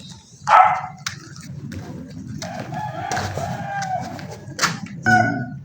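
Several dogs bark in short bursts at different distances, mixed with a rooster crowing and clucking fowl over a steady outdoor background.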